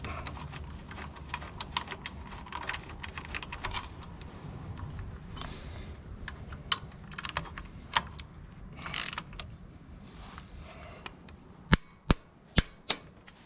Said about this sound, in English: Get this one tightened up.